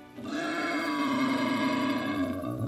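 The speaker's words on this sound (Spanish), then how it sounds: "Como por ejemplo, el de un jabalí." A wild boar call from The Hunter: Call of the Wild, a steady, loud growling roar with a rough low rumble that holds for about two and a half seconds with no talk.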